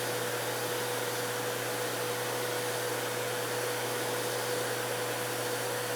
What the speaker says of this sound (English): the air from the vacuum cleaner will suck the seeds into the holes